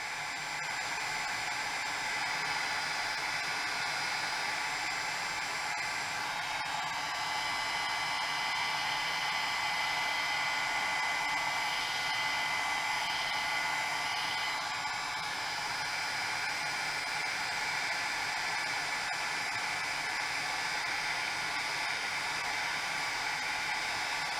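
A heat tool blows steadily and loudly for over twenty seconds while drying ink on a rubber-stamped paper craft piece, a constant whooshing roar with no pauses and no voices.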